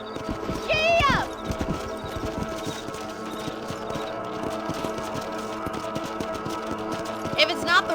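Horse hooves clip-clop steadily in Red Dead Redemption 1 on PC as a horse travels across a ranch, with a loud whinny near the start, another cry at the end, and speech over the rhythmic hoofbeats.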